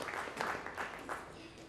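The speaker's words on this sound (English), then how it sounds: "Can we have a loud round of applause once again for our esteemed speakers?" A conference audience at a marketing congress applauding its speakers, a fairly faint, continuous patter of clapping with some voices underneath.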